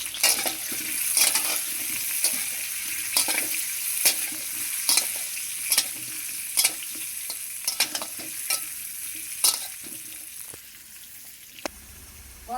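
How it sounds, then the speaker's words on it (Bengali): Potatoes seasoned with salt and turmeric fry in a pan with a steady hiss, while a spatula stirs and scrapes at a regular pace, each stroke sharp and close before the sizzle drops off near the end. "লাল লাল করে আমি আলুগুলোকে ভেজে নিয়েছি।"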